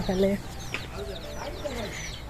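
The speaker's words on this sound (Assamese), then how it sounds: "এইফালে মুৰ্গী পুহিছে" Village chickens cluck close by in an open rural yard, a loud cluck at the start followed by softer scattered clucks and calls, with voices faintly mixed in.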